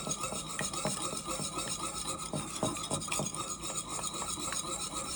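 A fork whisks egg and milk batter for a blooming onion in a bowl, giving a soft, quick run of scraping and clinking strokes at a steady rhythm, close by and fairly quiet.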